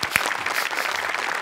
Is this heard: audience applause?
yes